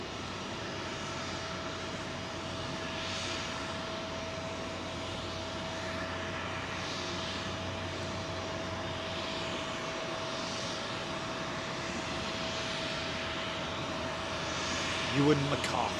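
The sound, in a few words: Boeing 747 jet aircraft engines before departure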